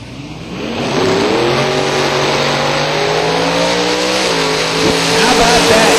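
Drag race cars, a 1991 Mustang and a 1968 Camaro, launch and accelerate down the strip, a loud rising engine roar with climbing pitch, while a track announcer talks over it.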